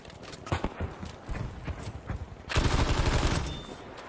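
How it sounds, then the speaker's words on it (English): Gunfire crackles in Battlefield 5 on Wake Island, a run of sharp shots through the first half giving way to a louder, denser burst of rapid fire near the end. "Who the fuck is shooting at me?"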